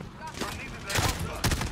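Gunfire in the video game Modern Warfare rings out in a few rapid bursts of shots over a short stretch, fairly loud, with a voice faintly present underneath.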